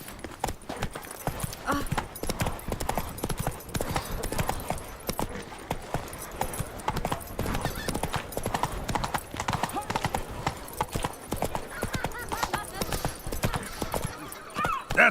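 Roach the horse gallops in The Witcher 3: Wild Hunt, Blood and Wine expansion, with loud, fast, steady hoofbeats clip-clopping throughout and a faint whinny mixed in.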